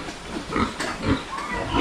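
A few short pig grunts come in quick succession, close by and moderately loud.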